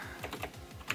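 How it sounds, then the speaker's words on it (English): Quick keystrokes clack on a Razer BlackWidow Ultimate 2016 mechanical keyboard, about half a dozen crisp, close clicks in an uneven rhythm with no talking. "it's the Razer Blackwidow Ultimate 2016 mechanical keyboard"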